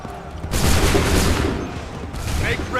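Musket volleys fired by ranks of soldiers in the Assassin's Creed III video game, two loud, dense crackling bursts of gunfire, the first long and rolling, the second shorter, with shouted commands faintly under them.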